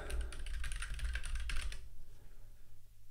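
Quick typing on a computer keyboard, a dense run of close key clicks that stops after about two seconds, leaving a quiet room hum.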